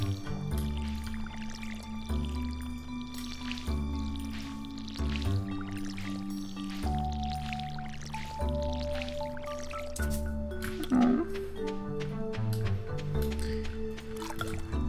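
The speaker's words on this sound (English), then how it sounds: "I get to use up all my energy watering my crops." Crops are watered with a watering can in Stardew Valley, a repeated series of soft drippy, squishy splashes over a looping musical background, with no talking.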